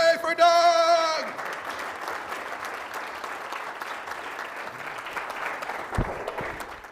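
A conference audience at Superweek 2023 claps steadily for Doug, the broadband applause following a brief musical chime and continuing evenly at moderate loudness for several seconds.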